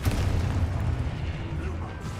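A Confringo spell explosion in a Harry Potter video game, a loud booming burst with a rumbling low tail fading over about two seconds, close and alone.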